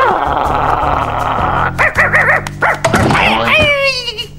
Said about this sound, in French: Désolée, Kiwi, mais tu restes là, le chien.